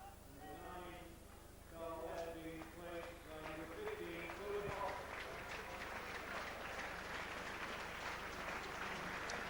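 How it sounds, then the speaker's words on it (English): Broad, steady crowd applause at a 1985 Swinton versus Warrington rugby league match as a player leaves the field for a substitute, rising and holding under a commentator's continuous voice. "So applause for Carl Webb as he comes off to be replaced by Tony Hodgson"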